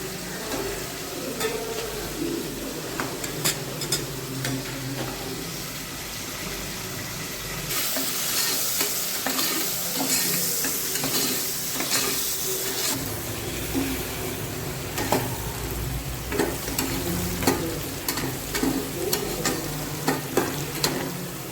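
Sliced onions sizzle and fry in a pan for mutton biryani, with steady crackling and intermittent stirring scrapes, a louder hissing burst midway; close, moderate level, no voices.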